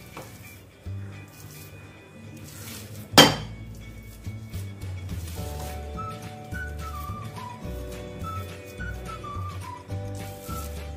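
A spoon strikes a pan once with a sharp metallic clank as mango sheera is served onto a plate, followed by soft scraping under quiet background music.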